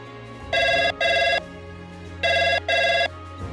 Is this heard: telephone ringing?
yes